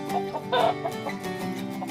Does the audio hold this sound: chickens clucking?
yes